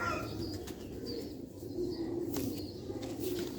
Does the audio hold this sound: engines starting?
no